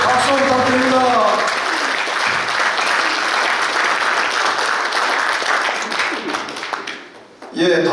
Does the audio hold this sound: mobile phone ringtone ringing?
no